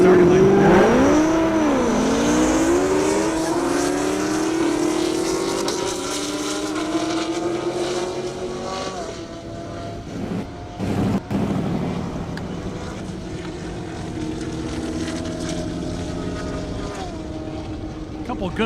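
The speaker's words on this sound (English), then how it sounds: "Up next, Dusty Hall, 17 Camaro. Zach Moore in a ZL1 Camaro" Camaros, one a ZL1, launch down a half-mile airstrip at a racing event, loud engines rising in pitch as they accelerate away, with a brief gust of wind noise midway and the roar fading but sustained to the end.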